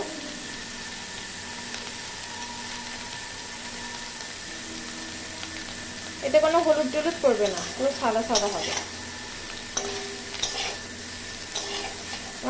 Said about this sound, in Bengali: কবিটাকে খুব বেশি ভাজবো না হালকা আমি জাস্ট তেলে ভেজে নেব